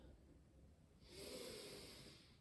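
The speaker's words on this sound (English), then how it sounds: "Keep breathing" Slow, soft breathing during a relaxation exercise, a quiet airy exhale through the nose rising halfway through over a faint hushed background.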